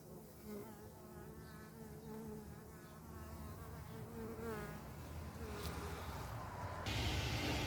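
Honeybees from a gentle Layens hive colony buzzing close by in a garden, a dense continuous hum with individual bees droning past, growing slightly louder toward the end.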